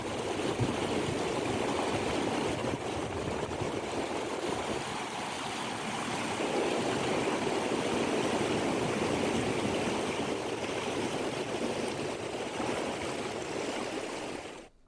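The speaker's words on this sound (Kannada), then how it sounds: "ಅದರಲ್ಲೇ ದೊಡ್ಡ ಪ್ರಮಾಣದಲ್ಲಿ ನೀರು ಕೂಡ ಹರಿತಾ ಇದೆ." Floodwater rushes in a steady, loud torrent through a trench where heavy rain washed out a national highway near Karwar, continuous and close, fading out at the end with no voices.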